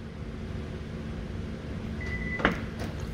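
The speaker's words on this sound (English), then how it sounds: "Doors unlock and the trunk opens." Hyundai Genesis G80 responding to its remote: a soft mechanical clunk and a brief beep-like tone near the end, likely the doors unlocking and trunk release, over steady low background hum.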